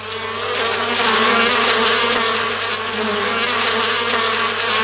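A bee buzzes steadily and close as it arrives at a Chinese aconite flower, a continuous loud drone with slight wavering in pitch, no voices.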